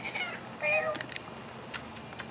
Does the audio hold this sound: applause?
no